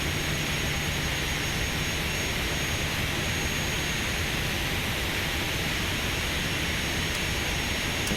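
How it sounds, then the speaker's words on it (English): Jet engines of a LevelUp 737 v2 in a flight simulator drone continuously, a loud, steady whine and roar with no talking over it, holding constant as the aircraft sits after pushback. "that's the sound of the version 2 LevelUp 737"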